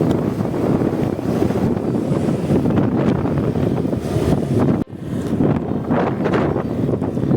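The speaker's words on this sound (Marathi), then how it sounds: "खूप छान असा वारा सुटलाय" Strong sea wind buffets the microphone in a steady, loud broadband roar near a pagoda by the water, with a brief dip partway through before the gusting resumes.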